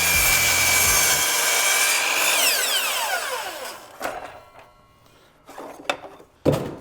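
Hand saw cutting through wooden door casing, a steady loud rasping run of strokes for about four seconds, then a few short, sharper scrapes and knocks as the cut finishes.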